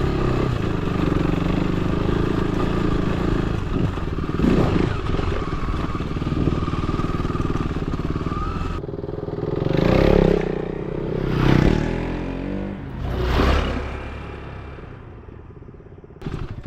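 Motorcycle ride toward Jarsing Pauwa: a steady, close engine drone with rattling and scraping clatter throughout, then several distinct revving surges in the final stretch.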